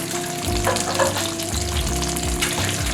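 Noodles are stirred in a pot with a wooden spoon over a loud, steady sizzling hiss, with rhythmic scraping and low thuds from the spoon against the pot.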